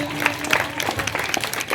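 Audience applause for a student at a school block-level debate competition: steady, moderately close clapping from a room full of people through the whole short moment, with faint crowd murmur underneath.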